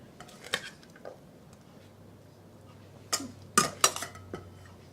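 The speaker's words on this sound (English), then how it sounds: "we are going to transfer it over here into this little dish" Frito corn chip salad is moved into a small dish with a utensil, giving a few soft clinks and scrapes against the dish, sparse and fairly quiet with a brief cluster of taps toward the end.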